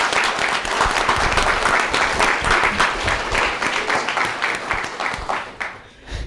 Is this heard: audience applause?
yes